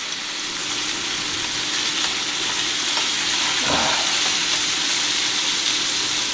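Wild hog meat sears loudly in a hot pan, giving a close, dense and continuous sizzle with a brief spatter partway through and no talking.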